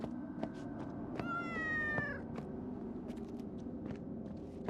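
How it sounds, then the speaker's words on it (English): A cat meows in a kampung-style horror video game, one drawn-out, wavering cry standing clearly over a low, steady ambient rumble and a few faint scattered clicks. "that's the cat they were supposed to hunt down."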